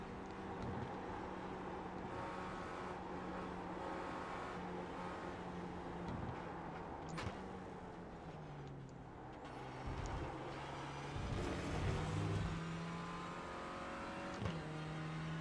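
Renault Clio race cars lap Snetterton in iRacing, engines droning and shifting pitch through gear changes and corners, with a nearby rival car's engine rising and falling alongside and brief thumps at shifts, steady and moderately loud throughout.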